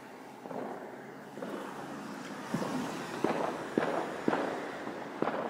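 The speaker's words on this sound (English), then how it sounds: "Oh, there's a fireworks over there." Fireworks bursting outside at a distance, a series of dull thumps and pops spaced about half a second to a second apart over a steady background hum.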